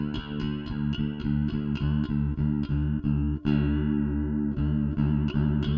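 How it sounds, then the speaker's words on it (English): Bass guitar played through an Electro-Harmonix Bass Clone chorus pedal, a steady run of repeated plucked notes with a thick, shimmering chorus swirl and some grit, loud and close with no talk. "This will allow you to control how subtle or how in your face the sound of the chorus is."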